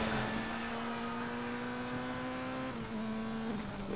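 A race car in the video game GRID drives at a steady high engine pitch, a constant loud drone that dips briefly near the end, with no talking.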